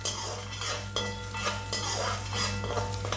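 Cumin and fennel are sautéed in a pan for aloo gobi, a continuous close sizzle broken by regular scraping stirs of a spoon against the metal.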